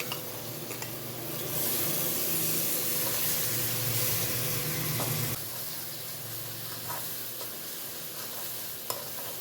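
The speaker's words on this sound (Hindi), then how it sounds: "और ये टमाटर चॉप किए हुए ये शामिल कर दूँगी।" Chopped tomatoes go into a hot pan of spiced oil with turmeric and salt for a Pakistani black-eyed bean curry. A loud, hissing sizzle surges for a few seconds and then settles into a quieter crackle with small stirring clinks.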